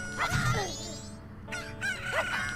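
Angry cuckoo chicken from Zelda: Majora's Mask squawking and crowing in two loud bursts, harsh rising cries over a low game background hum, with a short gap between them.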